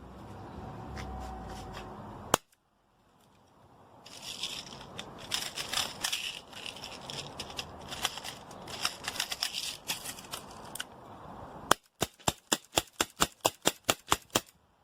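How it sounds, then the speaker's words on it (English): A Tanaka Smith & Wesson Model M10 airsoft revolver is speed reloaded: a sharp snap, then a flurry of clicks and rattles as rounds go in, another snap, and a fast, even run of loud metallic clicks as the cylinder turns. "I'm doing another speed reload, this time with the Tanaka Smith & Wesson Model M10."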